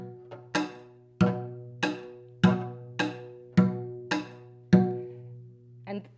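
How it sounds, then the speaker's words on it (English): Ütőgardon, a Hungarian percussion cello whose gut strings are beaten with a stick, strikes a steady series of about nine sharp, resonant twangy hits at an even pulse. The hits are close and fairly loud, with a low droning ring between them. "It looks like a real cello, but it sounds very different because we use a stick instead of a bow."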